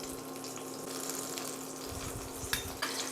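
Zucchini sizzles in a pan in a home kitchen, a steady close frying hiss with a couple of faint clinks near the end and no speech.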